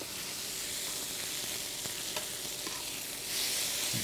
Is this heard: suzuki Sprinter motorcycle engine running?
no